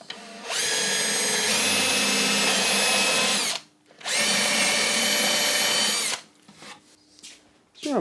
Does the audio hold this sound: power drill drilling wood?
yes